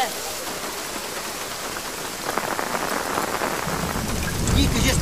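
Heavy rain falls in a steady wash, with low thunder rumbling in and growing louder toward the end.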